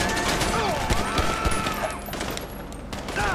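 Gunfire in the video game GTA V during a jewelry store heist: dense, continuous bursts of shots and clattering impacts with game effects, loud and sustained throughout.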